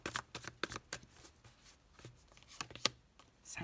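A tarot card laid down over another card on a table during a reading, giving several short, soft papery slaps and slides in quick succession, close and fairly quiet with no voices.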